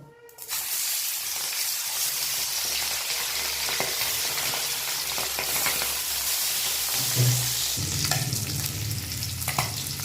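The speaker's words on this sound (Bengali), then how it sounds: "গরম হয়ে গেছে মাছগুলো ভেজে নেব" Tangra fish frying in hot mustard oil in a wok gives a loud, dense, steady sizzle that starts after a brief quiet moment and crackles on without a break, with no voices.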